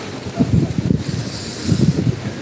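Strong wind buffets the microphone at an outdoor temple site in Aryankavu, making low, irregular rumbling gusts that rise and fall in waves.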